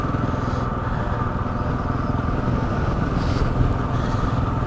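A motorcycle ridden on a road, its engine droning steadily and loudly throughout with constant wind and road rumble and no pauses.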